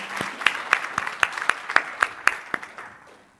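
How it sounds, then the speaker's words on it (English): Audience at a Microsoft Ignite tech conference session applauds a speaker coming on stage, sharp claps standing out over a light crowd wash, tapering off after about three seconds. "You guys please help me receive Jonathan with a big clap."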